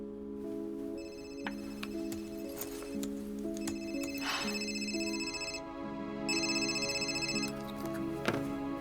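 A telephone rings repeatedly in a steady electronic ringtone pattern, bursts separated by short gaps, with tonal music or a soft tick in the background and no talking.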